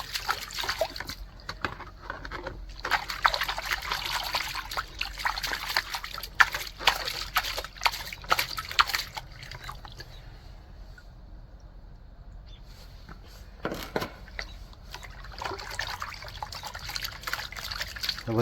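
Water washes gold prospecting sluice concentrate in a pan beside the Wisconsin River, with close sloshing, trickling and splashing in irregular bursts, a quieter lull midway, then more swirling splashes.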